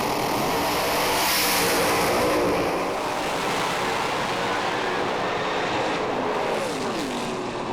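Drag racing cars rev hard and launch on the strip, a loud, roaring wall of engine noise heard from a distance, surging at the start and then fading slightly as they pull away.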